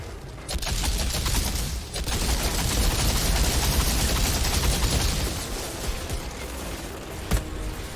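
Dense sustained gunfire crackles through a firefight in the video game Outriders, with sniper shots among bursts of rapid fire and a sharp louder crack near the end, no talking.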